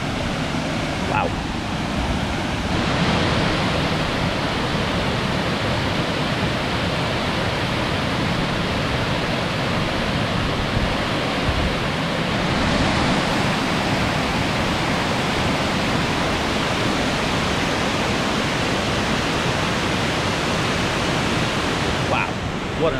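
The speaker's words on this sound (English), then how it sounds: "What an awesome waterfall." A waterfall in Pennsylvania's Delaware Water Gap roars as a dense, steady rush of falling water, loud and unbroken from start to finish.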